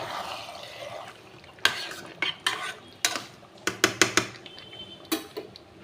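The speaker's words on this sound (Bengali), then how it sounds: "এবার আমি মাংসটাকে এইভাবে কষাবো।" Goat meat is stirred and braised in a large wok, with irregular clacks and scrapes of a spatula against the metal over a faint background sizzle.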